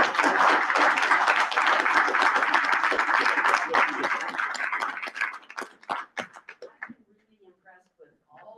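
Audience at a small-town candidate forum applauding, dense clapping that thins into scattered individual claps and dies out over the last few seconds.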